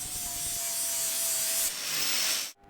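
An angle grinder strips galvanizing from the ends of reclaimed steel tube before welding, a steady close harsh rasp with a faint whine that stops abruptly near the end.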